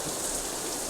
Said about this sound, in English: The rain increases a little more.